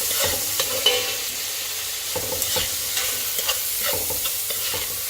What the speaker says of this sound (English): This has been frying for a couple of minutes